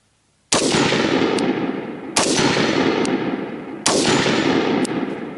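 Three loud rifle shots from a T1C MK18 being zeroed, evenly spaced about one and a half seconds apart, each a sharp close crack with a long ringing decay and no talking.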